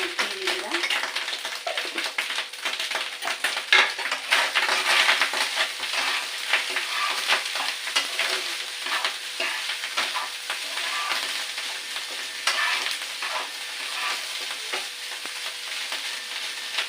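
Cooked rice is stir-fried with ghee in a pan, giving a loud, continuous crackling sizzle punctuated by frequent scraping stirs, steady throughout and close by.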